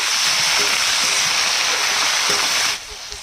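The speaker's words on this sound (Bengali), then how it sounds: "আমি কড়াইতে তেল দিয়ে দিয়েছি। এবার এঁচোড় আর আলুটাকে ভাজবো।" Green jackfruit and potatoes frying in hot oil in a kadai: a loud, steady dense sizzle and crackle that runs continuously, then drops off abruptly near the end, leaving a quieter hiss.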